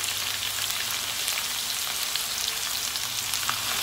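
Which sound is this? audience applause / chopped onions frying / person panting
chopped onions frying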